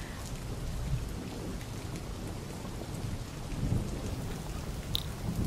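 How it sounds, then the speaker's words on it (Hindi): Heavy rain with thunder, a dense continuous hiss of downpour with low rumbling underneath, steady and moderately loud with no voices. "बाहर इतनी बारिश हो रही है ना"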